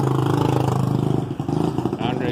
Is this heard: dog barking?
no